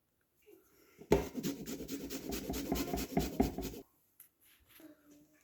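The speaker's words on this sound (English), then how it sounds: "we want to grate about a tablespoon of lime zest right into this" Lime zest is grated in a kitchen with a quick run of close, scratchy rasping strokes lasting under three seconds, then a few faint taps and clinks.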